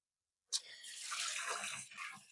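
Water gushes and splashes steadily out of a 454 big block engine being pulled from a barn find, a sudden start followed by a continuous close, loud pour.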